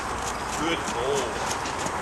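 A three-year-old mustang gelding walking, its hooves clip-clopping in a steady rhythm close by, with continuous background noise throughout.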